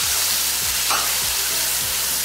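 Spice paste being stirred in a hot pan for a Bengali chanar kofta curry, a steady close sizzle broken by the rhythmic scrape of a spoon every half second, with no voices.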